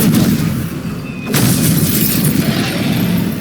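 A Stupefy spell is cast in Hogwarts Legacy, a loud crackling blast with a sharp burst, a brief drop, then a sustained bright rushing roar of magical impact.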